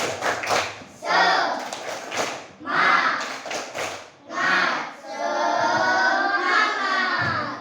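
A group claps out a rhythmic 'tepuk semangat' cheer in a classroom, with bursts of clapping broken by short pauses and voices, then a longer stretch of steady clapping at the end.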